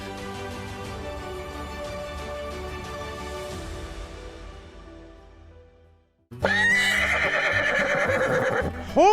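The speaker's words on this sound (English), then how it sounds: "Horses! I see horses!" Horses in the Pacific Northwest neigh loudly and close by: drawn-out whinnies fill the first six seconds, then a short pause, then a sharper, louder burst of neighing.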